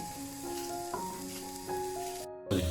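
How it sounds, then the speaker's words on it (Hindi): A soft, steady sizzle of onions frying in hot oil, with faint clinks and tonal hum in the background, no talking. "अभी इसको मैं तड़का बना रही हूँ पुलाव के लिए"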